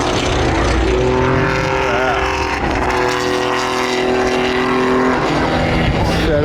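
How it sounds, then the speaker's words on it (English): Porsche 935 race cars roar past on the circuit at the Le Mans Classic with loud, continuous, high-revving engine noise that swells and shifts as they pass close by. No one speaks. "Those things are flying around here, man. Those 935s."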